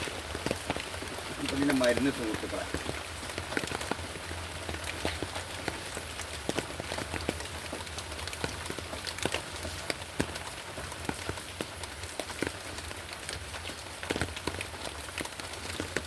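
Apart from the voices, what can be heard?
rain falling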